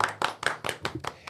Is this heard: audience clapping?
yes